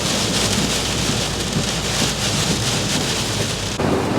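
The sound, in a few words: rain with thunder on the Isle of Skye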